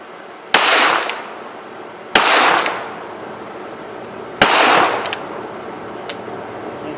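A Cimarron-Uberti Schofield No. 3 top-break revolver fires three loud, sharp shots spaced about two seconds apart outdoors, each followed by a decaying boom, with a faint click near the end.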